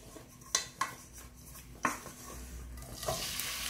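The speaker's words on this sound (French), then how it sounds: "directement dans l'huile d'olive le khobez." Mallow (khobez) goes into hot olive oil in a heated pan: a few sharp utensil clacks against the pan, then a soft, steady sizzle starts up near the end.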